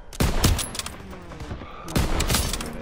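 Rapid gunfire in the Call of Duty WW2 campaign, loud bursts of rifle and machine-gun shots in close succession amid battle noise.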